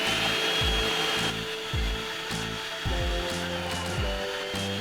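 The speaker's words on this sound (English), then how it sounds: "start the wheel spinning, and then I'll just feed all of these potato wedges down into there and it'll make it chips" Food processor with a spinning slicing wheel cutting sweet potato wedges into chips, a steady motor whine with repeated low thumps as pieces are fed down the chute, close and loud, no talking.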